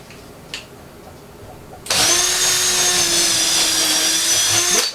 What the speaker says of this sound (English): So let's drill a couple holes and we'll see how close we get on that.